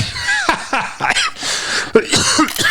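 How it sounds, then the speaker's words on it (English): Several sharp coughs burst out in a close, loud cluster, ragged and irregular, with some throaty hacking between them. "Excuse me for coughing."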